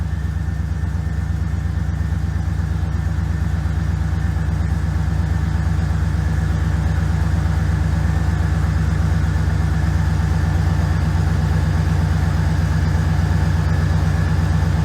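A 1996 LT1 V8 with a TorqHead install idles after a cold start, a loud, steady, close low rumble that holds unchanged with no talk.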